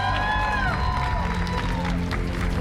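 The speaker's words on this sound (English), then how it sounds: "Let's give her one more round of applause, folks." Applause and cheering from the audience at the Pokemon Regional Championships in Indianapolis, a dense steady wash of clapping filling the short moment.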